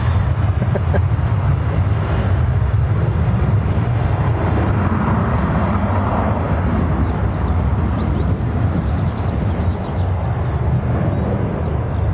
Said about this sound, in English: That Jet 2 is rolling, as you can probably hear.